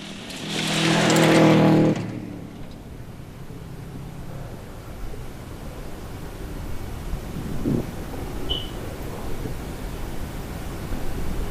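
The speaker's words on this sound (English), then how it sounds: "Duncan Waite, the Subaru Legacy." A Subaru Legacy rally car racing on a stage at a rally festival roars past close by in a loud burst of engine noise for about two seconds, then fades into a distant, windy hum with faint engine sounds.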